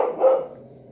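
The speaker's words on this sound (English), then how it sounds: "that's my dog barking" One short, fairly close dog bark fades out quickly into a quiet background.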